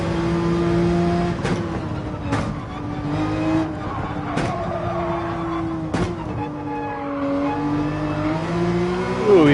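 Race car engine in the video game Gran Turismo 7, a sustained loud engine whine that climbs in pitch through gear changes, broken by a few sharp shift clicks and ending in a rising rev.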